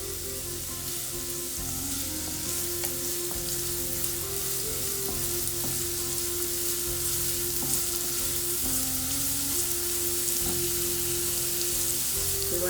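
Chopped onion and green chili fry in hot oil for a restaurant-style chicken starter, a steady close sizzle and crackle with occasional soft stirring clinks and a faint low hum underneath.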